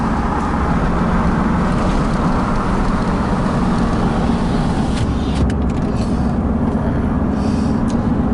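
A steady, loud engine-and-road rumble runs throughout from inside the cab of a Chevy 1500 pickup truck cruising at about 45 mph.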